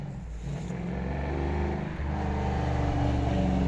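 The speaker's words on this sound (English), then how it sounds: "That's a noisy car." A noisy car passes near a spring garden, a loud, steady engine roar with low rumble that swells and holds close by.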